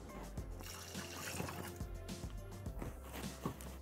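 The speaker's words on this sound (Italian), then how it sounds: "Aggiungiamo l'acqua" Water poured into a Thermomix (Bimby) bowl, a close continuous trickling splash with light clatter lasting the whole moment.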